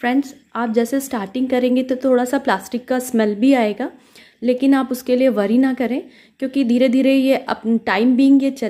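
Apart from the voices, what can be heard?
No everyday noises stand out.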